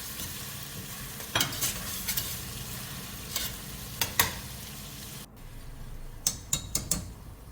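A tomato fries in hot oil for masala rice, sizzling steadily in a pan while a spoon stirs and scrapes, leaving several crisp metallic clinks and taps. Partway through, the sizzle drops away before the clattering returns.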